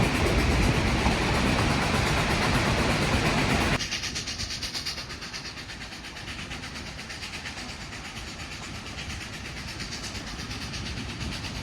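The Durango & Silverton narrow gauge train runs through the San Juan Mountains of Colorado, with steady rumbling wheels and a clickety-clack rhythm, loud at first then dropping to a quieter continuous roll, with no talk.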